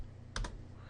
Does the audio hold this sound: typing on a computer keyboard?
yes